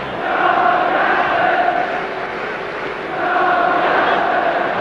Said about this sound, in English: now they're chanting Johnny Aston, Johnny Aston